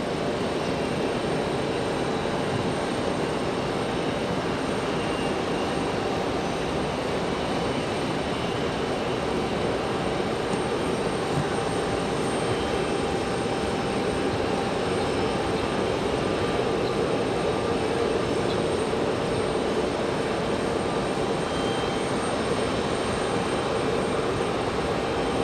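Airbus A321 taking off from runway 23 left at Raleigh-Durham, bound for Charlotte, a long, steady jet engine roar holding at high level throughout with no talk.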